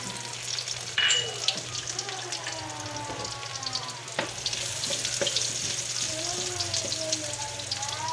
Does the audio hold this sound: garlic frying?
yes